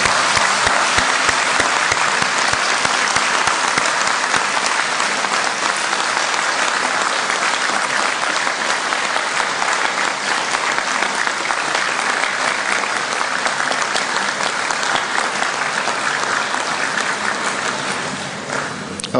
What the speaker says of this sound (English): give a round of applause to the people who got you here today